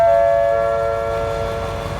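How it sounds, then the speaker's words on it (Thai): A train horn sounds steadily over the rumble of an express passenger train arriving at Ban Pong station in Thailand, loud and close, the tone dropping slightly as it continues. "ที่เพื่อนๆได้ยินไปนะฮะก็คือประกาศ เสียง ขบวนรถด่วน พิเศษทักษินารัฐที่ 31 นะครับ"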